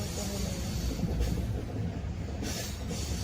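Steady low rumble of a Mumbai train rolling along at night, with a continuous rattling clatter and faint hiss throughout, no voices.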